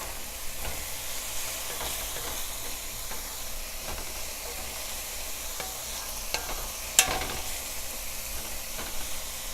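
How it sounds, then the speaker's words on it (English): Garlic sautéing in a pan with salt and pepper, a soft steady sizzle punctuated by repeated scraping stirs and one sharper clink, close and without talk. "You're only going to let your garlic saute up for about maybe 2 minutes or so"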